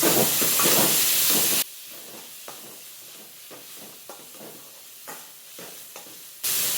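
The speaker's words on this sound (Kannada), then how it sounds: "ಟೊಮೆಟೊ ಚಂದ ಫ್ರೈ ಆಗಬೇಕು." Chopped tomatoes fry in a pan for an egg dish, a loud steady sizzle that drops to quieter crackling with soft stirring clicks, then swells again at the end.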